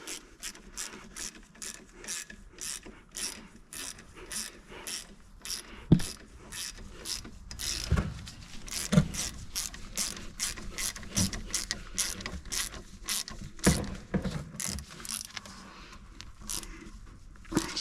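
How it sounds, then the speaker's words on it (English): A ratchet turns a 12mm bolt on the rear brakes of a Land Rover Discovery 2, giving close, rapid clicking bursts that repeat steadily over many strokes, with brief pauses between. "I'm just going to get my 12mm spanner, or ratchet in this instant."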